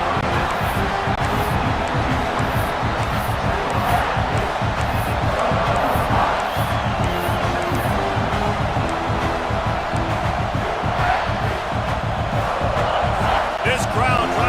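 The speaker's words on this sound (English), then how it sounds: "This crowd trying to make life miserable for this offense." Stadium crowd noise from the College Football 26 video game during a Kentucky Wildcats game, a loud continuous roar with rhythmic chanting and cheers, joined by a commentator talking.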